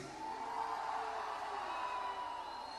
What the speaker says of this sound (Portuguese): Eu queria uma vaia pra eles.